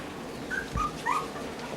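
Two-week-old puppies whimper close by, a few short, high, thin squeaks and whines spread over a couple of seconds against a quiet room background.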